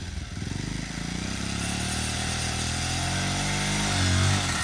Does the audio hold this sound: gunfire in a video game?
no